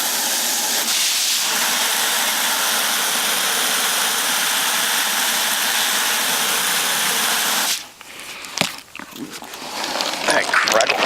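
Water runs into a container of dug-up antique glass bottle shards to soak them: a loud, steady rushing hiss for about eight seconds that cuts off sharply, followed by someone talking and a few light clinks.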